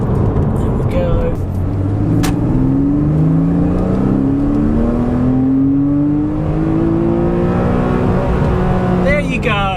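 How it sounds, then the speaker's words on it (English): A Porsche Cayman engine revving to the red line in second gear, loud and close: a strong drone climbs steadily in pitch over several seconds, then drops off, with a voice talking over it at times. "Let's see if I can take it to the red line in second."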